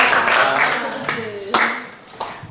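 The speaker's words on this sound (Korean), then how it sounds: "자, 박수 3번 맞춰주시면은" A few sharp hand claps mark the beat in a small church group gathering, spaced apart and close to the microphone, with a voice singing or talking between them.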